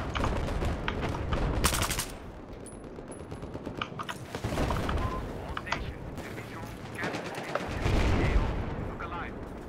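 Gunfire in Battlefield 4 on the Siege of Shanghai map, with rapid automatic bursts and heavy booming blasts overlapping in a chaotic battle, loud and close, alongside voices.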